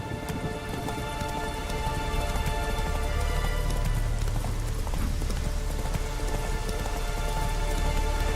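Roach the horse galloping in The Witcher 3: Wild Hunt, a rapid steady clip-clop of hooves under a constant wash of rain and game ambience, with no talk.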